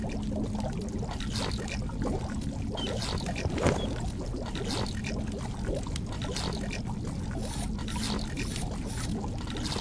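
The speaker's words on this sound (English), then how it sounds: "The goulash is bubbling in the cauldron." Goulash bubbling in a cauldron in a dwarven kitchen in The Dwarves game, a steady dense gurgling and simmering wash with no pauses.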